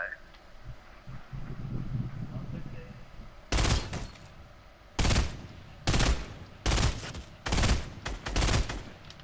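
Bursts of automatic gunfire in Fortnite, several loud rapid volleys in quick succession after a quieter stretch, with players talking under the action.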